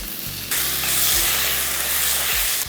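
Onions and tomatoes sizzling loudly in hot oil in a pan while being sautéed for an egg gravy, a steady dense hiss that swells after a brief quieter start.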